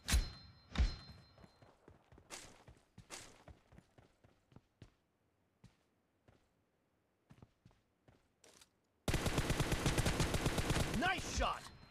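Gunshots from an M416 rifle in a video game: several sharp cracks spread over the first half, then a quiet stretch, and a dense, loud burst of rapid automatic fire near the end.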